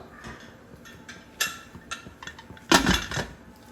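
A metal lid set onto a pressure cooker pot of mutton mandi biryani, giving one loud clattering clank after a few lighter metallic taps and clinks nearby.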